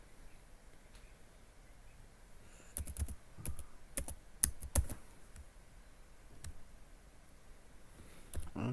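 Keys on a computer keyboard are tapped in a short sparse burst of clicks while entering an ID, username and password, quiet and close over a low room hum, with scattered taps afterward.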